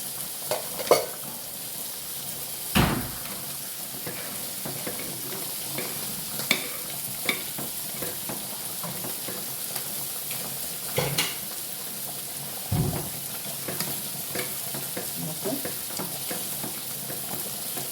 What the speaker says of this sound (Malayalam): നന്നായിട്ട് തിളക്കുന്നുണ്ട്